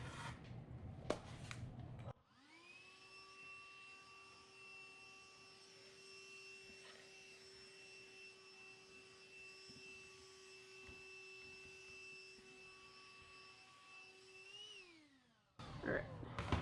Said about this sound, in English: Alright, vacuum his up.